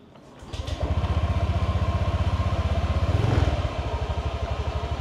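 A small automatic scooter engine with 93,000 km sputters to life and settles into a steady, rapid idle with a faint rattle, close by.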